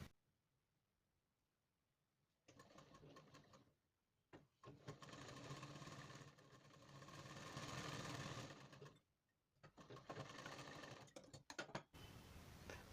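Sewing machine stitching a design blouse neck piece in contrasting thread, running in three whirring bursts of several seconds each, separated by short pauses, close up and loud.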